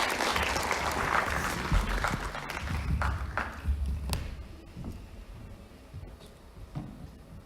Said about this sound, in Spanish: Les pido un fuerte aplauso para él.